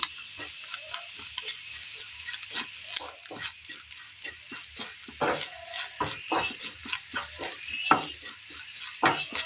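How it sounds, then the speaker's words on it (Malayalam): A spatula scrapes and stirs coriander, chicken masala and garam masala powders in a pan for egg masala. It makes a close, busy run of irregular scrapes and knocks over a low sizzle, with no talk. "മല്ലിപ്പൊടിയും ചിക്കൻ മസാലപ്പൊടിയും ഗരം മസാലപ്പൊടിയും ഇട്ട് കൊടുത്തിട്ട് നന്നായിട്ടൊന്ന് ഇളക്കിയെടുക്കാം."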